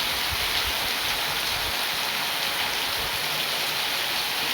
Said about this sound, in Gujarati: ખૂબ સારો વરસાદ પડ્યો છે